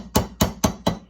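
A brass punch struck four times with a plastic hammer to drive a pin into an Arisaka Type 99 rifle, close, sharp evenly spaced taps about a quarter second apart.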